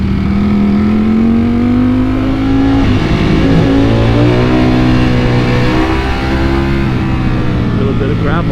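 A Ducati Panigale V4 superbike engine roars loud and close as the rider shifts down into first gear on a gravelly road, a steady throaty drone with rising and falling pitch.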